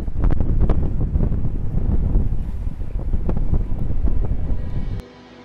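Loud, blustery wind buffets the microphone with heavy low rumbling and gusty thumps, continuous until it suddenly drops away near the end.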